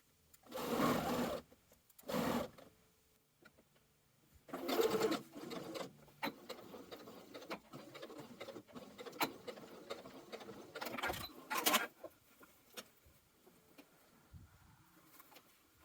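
A home sewing machine stitches the side front seams of a garment in several short runs, whirring bursts separated by pauses, close but soft, with light handling noises between.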